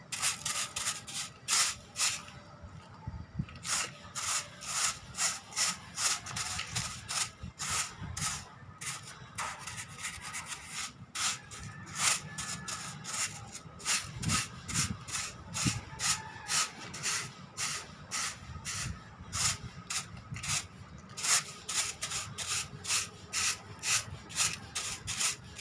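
A broom sweeps sand off a wet surface before painting, giving steady rhythmic scratchy strokes. The strokes are close but fairly quiet and repeat continuously with no talking.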